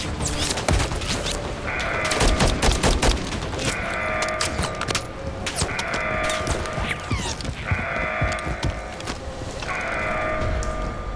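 Gunfire in Call of Duty Modern Warfare III: rapid, loud bursts of shots crack back and forth, mixed with repeating blaring tones that rise and fall in regular cycles, with no voices.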